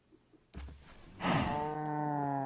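Minecraft cows moo in the game, one loud drawn-out low bellow after a few soft clicks and a short thump, heard close and clear without any talking.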